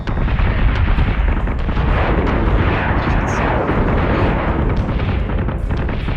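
Ship weapons firing and explosions in a Battlestar Galactica video game: a dense, loud, continuous barrage of booming blasts and rumbling impacts with no pauses.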